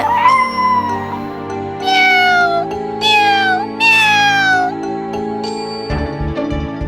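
A kitten stuck on top of a cupboard meows repeatedly, about four drawn-out, high plaintive cries, loud and near over a soft steady musical background.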